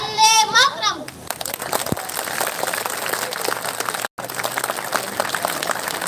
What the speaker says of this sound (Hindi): आर्यन के लिए बहुत जोरदार तालियां